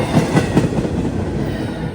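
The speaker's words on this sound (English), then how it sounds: "This train's running pretty late today." A freight train rolls through Madisonville, Kentucky, its wheels clicking in a steady rhythm over rail joints, with a continuous close rumble and no voices.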